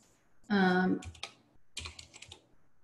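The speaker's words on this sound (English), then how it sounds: "And I'm typing that in now." After a short spoken phrase, a few quick bursts of keyboard clicks follow, pausing briefly before another rapid patter of typing.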